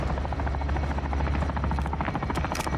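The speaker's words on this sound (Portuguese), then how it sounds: "Já vem de helicóptero e pau." A helicopter arrives in the video game Call of Duty: Modern Warfare 2 campaign, a steady droning rotor buzz with rhythmic blade chop running throughout at moderate level.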